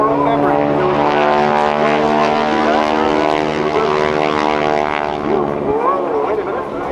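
Propeller aerobatic airplane rolling through a barrel roll at a naval air station airshow, a loud steady droning engine with a shifting pitch, heard alongside a voice over a loudspeaker.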